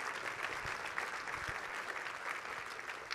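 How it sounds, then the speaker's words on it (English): A convention audience gives a round of applause for presenters, producing steady, even clapping from many hands that holds at a moderate level throughout. "let's hear one more round of applause for our big idea presenters."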